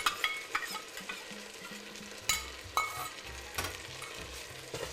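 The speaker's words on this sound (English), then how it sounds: "And I'm going to give it a good stir." Browned vermicelli stirred in a pot makes a soft sizzle broken by a series of scraping knocks and metallic clinks at irregular intervals, close but fairly quiet.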